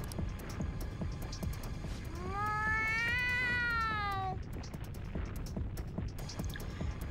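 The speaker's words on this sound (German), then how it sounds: "Diese dumme Katze." A cat in the video game Persona 5 Royal lets out one long, rising and falling caterwauling meow lasting about two seconds, clear over a soft background with faint clicks.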